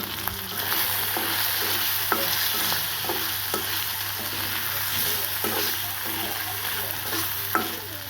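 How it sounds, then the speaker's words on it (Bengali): Chicken with ginger, garlic and spices fries in splattering hot oil, a steady loud sizzle broken by repeated stirring scrapes and sharp spits, with no talking. "তেলটা বেশি ছিটতেছে মশলা দেওয়ার কারণে তাই চিকেনটা আমি আগেই দিচ্ছি"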